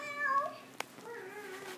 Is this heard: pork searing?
no